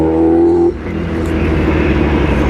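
Road traffic at a stoplight corner on Mateo, with a steady close engine rumble and cars passing in a continuous wash, a louder tonal engine hum at the start dropping away after the first moment.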